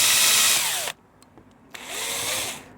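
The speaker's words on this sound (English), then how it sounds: "I'm just going to try drilling right down through the center of the heat welded staking point." A power drill bores down through a plastic heat-welded staking point on the front lower speaker grille of a 2013 Mini Cooper R56, two close, loud bursts of whining drilling separated by a short pause with small clicks.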